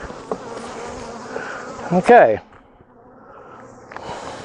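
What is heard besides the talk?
honey bees buzzing while pulling honey supers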